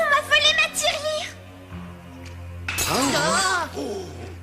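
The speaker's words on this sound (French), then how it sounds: "ça c'est le bruit d'une tirelire brisée" A piggy bank shatters with a burst of breaking, clinking sound, set among cartoon-style voices and effects.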